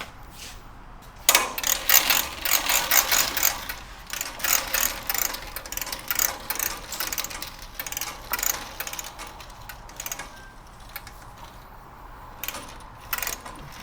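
A hose reel in a garage ratchets and rattles in a series of quick, irregular metallic clicks and clatters, fairly close and moderately quiet, with brief pauses between bursts.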